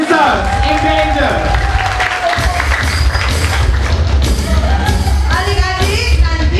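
A crowd at a musical discussion event applauds performers, clapping and cheering loudly and continuously over a heavy low thumping background, with voices shouting through the noise.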